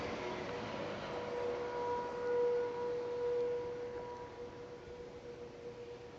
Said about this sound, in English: I'm hearing strange trumpeting horn sounds, seemingly coming from nowhere.